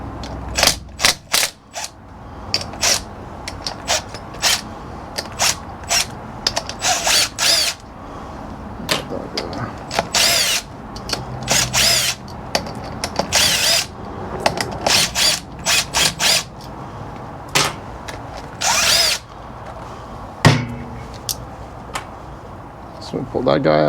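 Power tool cracking loose the clutch cover bolts on a 2000 Harley Davidson FXDS, short loud rattling bursts repeated many times in a star pattern, with someone talking between them.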